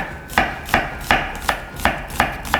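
Onion being sliced thinly with a knife on a cutting board for a shrimp stir-fried noodle dish, seven crisp, evenly spaced chops in a brisk steady rhythm, close and clear with no talking.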